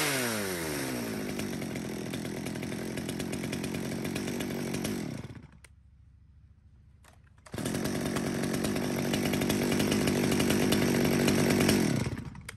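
Stihl 020 chainsaw, a German-branded saw, running loud and steady with a rich harmonic engine whine, cutting out briefly to near idle for about two seconds before revving back up to full roar.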